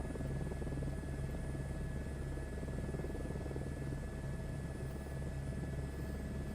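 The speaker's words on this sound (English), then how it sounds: "Max performance takeoff." A helicopter in a flight simulator video game performing a max performance takeoff near a scenic cliff, with a steady, dense rotor and engine drone that stays loud and unbroken throughout.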